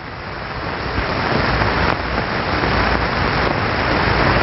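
Water flowing through an ordinary glass tube and spurting from a hole in its side, heard as a loud, steady broadband rush and hiss that holds constant throughout without pause.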